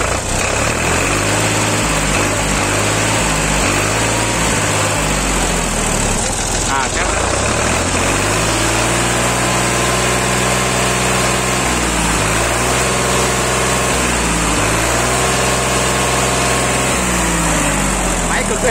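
A machine for sale idles steadily in place, its loud engine note holding close with a brief revving surge midway and a few shifts in pitch, while someone talks over it.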